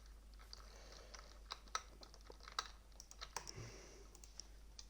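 Keys clatter on a computer keyboard as commands are entered in Minecraft, with quick irregular bursts of close, soft clicks and occasional sharper taps over a quiet room hum, with no talking.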